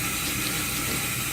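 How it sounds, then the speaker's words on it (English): Water runs steadily from a tap into a sink, a continuous close hiss and splash with no voices. "turn our water, let it warm up."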